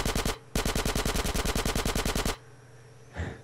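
Rapid automatic gunfire in the SA-MP zombie server game comes as a short burst, then after a brief gap a longer, steady stream of shots lasting about two seconds, before a quiet stretch with a faint soft thump.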